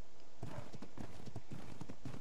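Horse hooves clip-clopping in the survival game Ragnarok, a quick, even run of close, loud hoofbeats heard alone for a couple of seconds.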